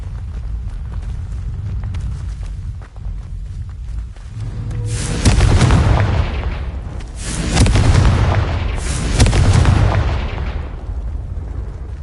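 Fire-spell explosions from Confringo cast in the Hogwarts Legacy video game, heavy booming bursts over a low rumbling bed, two or three big blasts in quick succession.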